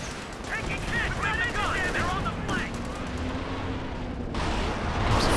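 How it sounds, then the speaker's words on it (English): A German Werfer rocket artillery barrage in Company of Heroes 2 rumbles as distant explosions and crackling gunfire over a busy battlefield, with a voice speaking over the steady din. "First Werfer barrage."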